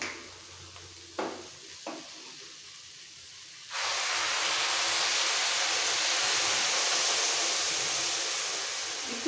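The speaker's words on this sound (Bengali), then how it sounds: "এবার দিয়ে দেবো গরম জল" Hot water poured into a pan of frying khichuri mixture for a puja bhog meal, bursting into a loud, steady hiss of steam and sizzle that lasts several seconds after a few brief stirring clinks.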